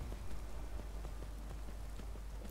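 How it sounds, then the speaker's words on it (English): Rain in the Skyrim video game, a steady soft hiss of drops pattering on surfaces, faint and constant with no voices. "Because it's raining now,"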